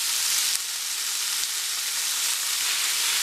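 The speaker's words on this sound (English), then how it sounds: "You can hear it start to sizzle." Steady, dense sizzling of pork carnitas frying in a hot pan, loud and continuous with a bright crackling hiss throughout.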